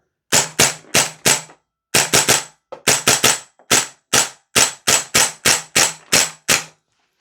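A Vorsk VMP-2 gas blowback airsoft rifle firing semi-auto from a short magazine: about sixteen sharp, loud cracks, some in quick pairs or triples and others evenly spaced, each with a clacking bolt cycle and nothing else between.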